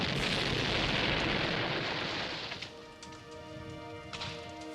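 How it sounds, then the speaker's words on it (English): A ship explodes as it sinks, a broad roaring blast that rolls on for a couple of seconds before thinning into a lower rumble with faint ringing tones and scattered thuds. "the sound of the explosion can travel very, very far"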